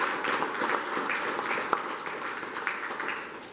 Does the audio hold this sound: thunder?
no